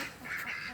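Raised backyard ducks quack loudly and repeatedly, a messy overlapping chorus of calls filling the short stretch with no talking.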